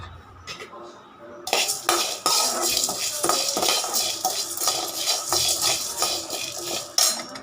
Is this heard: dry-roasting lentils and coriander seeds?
yes